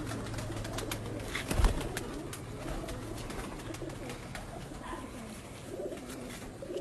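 Caged pigeons coo close by, with soft repeated throaty rolls and a brief louder thump midway, set against low steady background noise.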